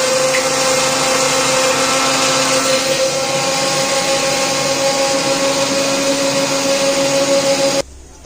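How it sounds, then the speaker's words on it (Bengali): An electric mixer grinder grinds spice paste with a loud, steady motor whine and churning roar that holds constant for about eight seconds, then stops. "মিক্সারে বাটনাটা আমি বেটে ফেলেছি"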